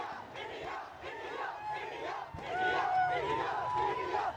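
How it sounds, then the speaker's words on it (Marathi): A street crowd on Pune's Fergusson Road celebrates India's T20 World Cup win with chanting, cheering and shouting, a continuous roar that swells louder in the second half, with whistles and horns poking through. "जल्लोष होतोय"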